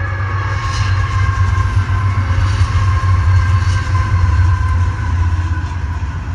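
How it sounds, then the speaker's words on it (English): A train rumbles past close by at Celilo Park, a loud steady low roar with faint rhythmic clatter and a high metallic whine over it, with no voices. "The train's going by."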